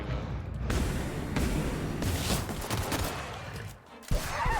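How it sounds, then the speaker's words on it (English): Pistol fire in the video game The Outer Worlds, a dense stretch of shots and impacts mixed with game effects, loud and continuous, with a brief lull near the end before another burst. "I'm taking these things down way quicker now that I've got this pistol."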